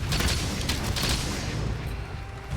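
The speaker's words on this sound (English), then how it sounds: "So, how bow works is you can either just press the button once to shoot" A charged bow shot fired in Monster Hunter Rise, loosed with a sharp burst that rings out and then trails off into a broad, noisy wash of game sound.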